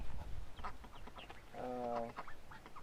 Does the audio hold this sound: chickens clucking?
yes